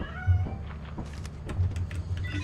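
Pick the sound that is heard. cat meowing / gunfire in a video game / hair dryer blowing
cat meowing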